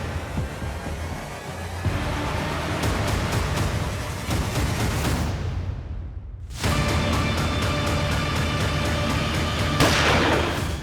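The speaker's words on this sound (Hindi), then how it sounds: "ये गोली चलने की आवाज थी ना?" Loud, dense bursts of gunfire crackle continuously, briefly dropping away before resuming at full intensity.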